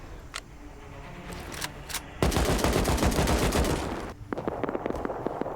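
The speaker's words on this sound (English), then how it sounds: "I could hear the sounds of gunshots and nobody was on their roof." Gunfire in the video game Rust, a few isolated distant shots, then a dense burst of rapid automatic fire followed by scattered single cracks, moderately loud with no talk.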